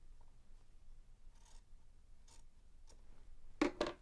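Scissors trimming excess fabric beside a sewing machine, several faint soft snips spaced apart, then two louder crisp cuts close together at the end, quiet room and no talk.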